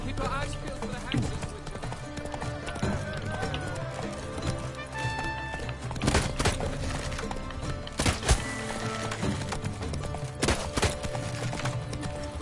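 Roach the horse gallops in The Witcher 3, with rhythmic hoof clip-clops and thuds running under a busy game soundscape and a few sharp impacts.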